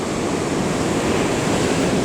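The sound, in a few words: ocean waves breaking on beach at river mouth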